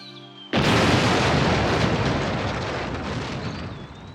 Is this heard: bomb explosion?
yes